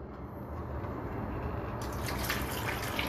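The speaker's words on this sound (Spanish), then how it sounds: "Ahora le añadiremos el agua." Water poured into a pot of pumpkin stew on the stove, a steady, quiet splashing and trickling stream running throughout without any talk.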